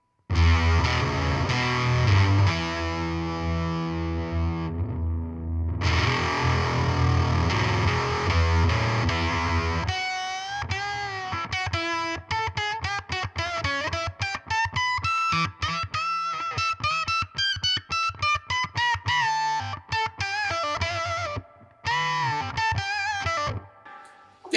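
Distorted, fuzzy electric guitar through an analog octave fuzz pedal, a Warm Audio Foxy Tone Box, riffing with a thick, buzzing tone, first sustained chords, then choppy staccato notes with brief gaps.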